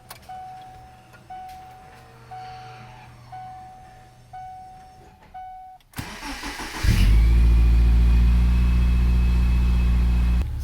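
Cold start of a 2000 Subaru 2.5RS engine after an oil change in a garage: starter cranking, then the engine catching with a loud burst and settling into a steady, high idle, preceded by repeated beeping chimes.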